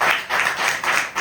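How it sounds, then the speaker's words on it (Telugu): Churchgoers clap in unison, four or five broad, evenly spaced beats blending into one another, moderately loud and unaccompanied. "వచ్చిన చప్పట్లు కొడుతున్నారే."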